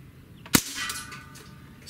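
A single sharp crack from a Ruger 10/22 air rifle firing an alloy pellet rings out close by, with a short fading tail afterward.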